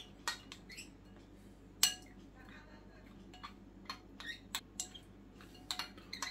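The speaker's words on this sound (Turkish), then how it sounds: "Ayrı bir kasede böyle karıştırıyorum." A spoon stirs turmeric in a separate small bowl while making ashure, giving faint scattered clinks and taps against the bowl over a quiet background.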